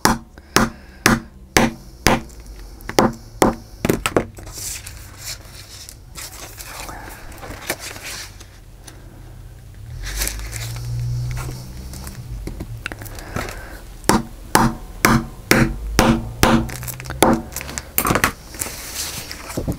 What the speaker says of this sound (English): this is going to be a little noisy. So go ahead and turn your volume down while I do these 2 rivets or eyelets